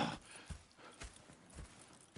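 Horses in the video game Red Dead Redemption 2 clip-clop with a steady, uneven run of hoof strikes against a soft background murmur.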